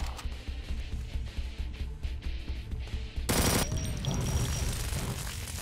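Rapid gunfire from a weak weapon in the Doom mod Project Brutality, a dense stuttering burst of shots that runs continuously, loud and close, with a sharper blast near the middle.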